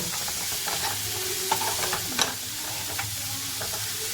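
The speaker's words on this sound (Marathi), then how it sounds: "मी दोन मोठे कांदे कापून घेतले त्याला व्यवस्थित फ्राय करू आधी मोठा गॅसवरती याला शिजून घेऊया" Two large chopped onions fry on a pan over high flame, giving a close, steady sizzle broken by scraping stirs and a few sharp clicks of the spatula, with no talking.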